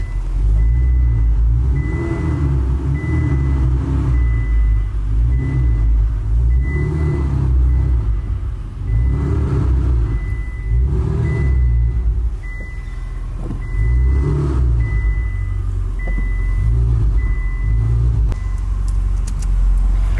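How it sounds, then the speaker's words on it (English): Ferrari 488 being driven, a deep, continuous engine rumble heard from inside the car with rising and falling surges, and a faint repeating beep tone over it. "This was our, at least my first drive in the bedazzled diamond Ferrari, the diamond Ferrari 488."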